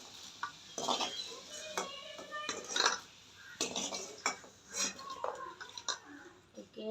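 Dishes and utensils clatter and clink in scattered bursts as a plate is handled, with soft handling noises and a faint murmur in between.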